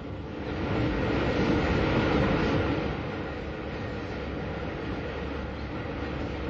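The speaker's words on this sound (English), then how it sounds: "The train crosses over one of the great engineering features of the Brighton line, the Ouse Valley Viaduct" A train crossing the Ouse Valley Viaduct on the Brighton line gives a steady, broad rolling rumble, slightly louder in the first half, with no voices.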